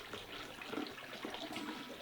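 Four cups of water pour into a strong lime mixture for Brazilian lemonade, a soft continuous splashing and gurgling stream, fairly quiet and steady throughout.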